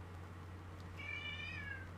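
A single faint cat meow rises and falls once over a low background hum.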